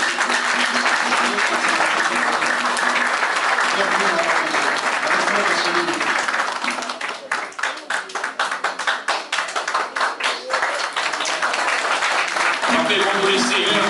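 A church congregation applauds and claps for the Lord, a continuous dense wash of applause that turns into sharper, rhythmic unison claps partway through, with voices mixed in at the start and end.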